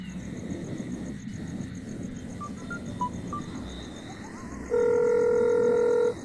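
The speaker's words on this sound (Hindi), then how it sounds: "रुक मैं उससे फोन करता हूँ।" Telephone dialing: a few short keypad beeps over a steady background hum, then a loud sustained ringback tone lasting over a second, close and clear with no voices.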